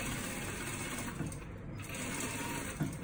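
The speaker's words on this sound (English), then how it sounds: "We're just stitching that all the way around" A sewing machine running steadily while stitching fabric around a lined hanging joey pouch for wallabies and kangaroos, a fast, even whirring buzz held throughout at close range.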